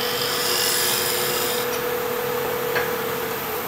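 Continuous rasping hiss of sandpaper rubbing spinning wood on a lathe, steady and fairly loud over a low motor hum.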